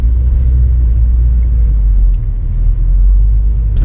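A 2015-or-later Subaru WRX, fitted with a Perrin pitch stop mount, accelerates gently on a road, heard from inside as a loud, continuous low engine rumble with no break.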